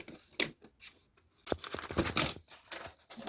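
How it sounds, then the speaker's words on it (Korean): Scissors cut through folded colored paper in a craft project, a series of short crisp snips and rustles, some isolated and others clustered, close and fairly quiet. "반을 접어서 잘라주시면"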